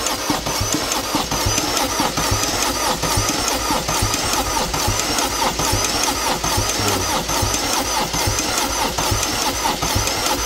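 A Peugeot 207 1.6 HDi diesel with 545,000 km starts after timing chain repair work, then runs as a loud, steady, close engine clatter that fills the whole stretch without letting up.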